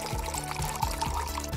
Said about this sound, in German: Jetzt noch Tonic Water.